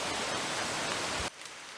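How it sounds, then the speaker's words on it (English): Heavy rain pours in the Masoala rainforest as a dense, loud hiss that cuts off abruptly near the end, leaving a quieter background. "we're trying to wait out the rain. It's been going like this for about 10 minutes now, just straight"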